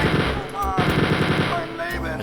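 Rapid automatic gunfire from Spear of Destiny, a retro first-person shooter, as guards are shot down in a dungeon level, loud and continuous bursts filling the whole moment with no talk.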